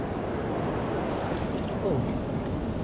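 Big sea waves surge at a flooded river mouth after heavy rain, a continuous loud rushing wash with wind noise, while a voice speaks briefly over it.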